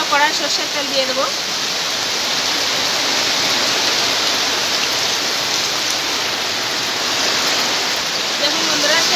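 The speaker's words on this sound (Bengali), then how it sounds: "দেখুন কি করে ভীষণ বৃষ্টি হচ্ছে বাইরে।" Heavy rain pours down outdoors in a steady, dense hiss that fills the whole stretch, with a brief voice heard faintly near the start.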